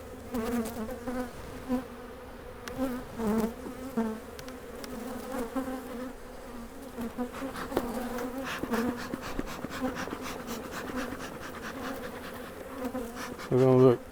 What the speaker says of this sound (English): just in case robber bees got on here